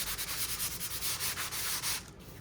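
Hand sanding of a junk journal cover, a steady scratchy rubbing in quick back-and-forth strokes, close and fairly loud, then easing off near the end.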